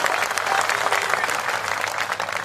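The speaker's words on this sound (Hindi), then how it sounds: "यदि सही है तो जोरदार तालियां" Loud, dense applause from an audience at a political poem recital, steady and sustained throughout with no gaps or voices over it.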